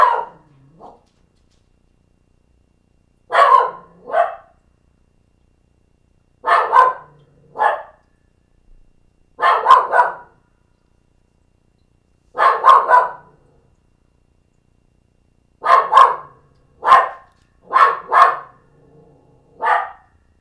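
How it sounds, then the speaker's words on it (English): A dog barks in short clustered bursts, about every two to three seconds, fairly close and loud, with silence between the volleys and no talk. "Sorry about the barking"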